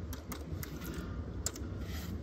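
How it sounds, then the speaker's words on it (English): Quick, light keystrokes on a computer keyboard entering a short disk-encryption passphrase during an OpenBSD install, a run of soft close-up clicks with an occasional firmer tap, over faint room hum and no voices. "I'm just gonna type noob."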